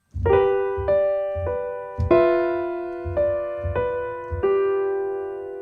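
Solo piano playing the chords of a song, with six or seven separate struck chords, each ringing out and decaying before the next, clear and close with no voices.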